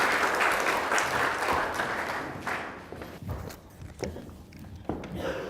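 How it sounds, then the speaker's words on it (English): An audience at a book launch applauds for Jill Warlow in a room, a burst of clapping that thins out into scattered claps and shuffling footsteps. "I want you guys to give a big round of applause to Jill Warlow, the woman behind the man."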